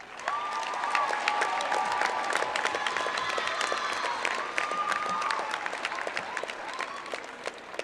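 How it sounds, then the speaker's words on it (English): Audience applause at a school event, steady dense clapping filling the whole stretch with a few cheers and whoops rising above it, a large room of people close by. "Let's give them all a round of applause."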